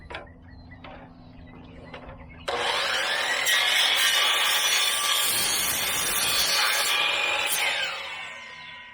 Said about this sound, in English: I have a 12-inch 82 DeWalt fine cut blade. Let's see how it does with the PVC pipe.